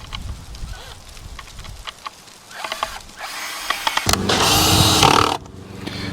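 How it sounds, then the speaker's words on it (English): A small cordless drill whirs in short bursts, then runs in a longer, louder spin as a screw is driven in close by while mounting a squirrel feeder, with brief clatter around it. "I'm going to use my little cordless drill."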